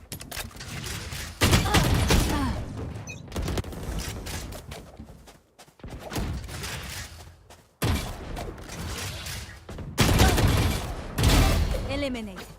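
Gunfire in a Valorant esports grand final between Paper Rex and FPX: repeated loud bursts of shots and impacts keep cutting in and out under excited commentary, with brief quiet gaps between the volleys.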